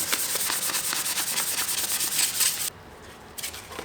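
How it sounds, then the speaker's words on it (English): Toyota Tundra grille surround pieces being hand-sanded until dull, a rapid rhythmic scratchy rubbing, close and moderately loud, pausing briefly near the end. "we want to sand this down until the entire surface area is nice and dull"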